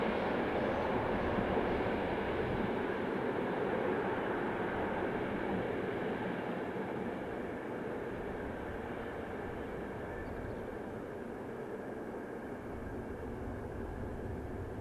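Passenger train hauled by Austrian locomotive 1044062, the morning service from Zagreb to Salzburg, rumbling past steadily with a continuous broad roar that fades slightly as it goes.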